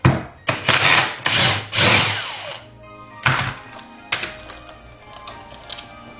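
A power screwdriver drives screws, with several short bursts of whirring motor noise in quick succession, then a pause and two more brief buzzing runs, loud and close with nobody talking.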